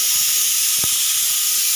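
A steady, bright hiss of steam from a pot of boiling mutton runs throughout, with one brief soft thump in the middle.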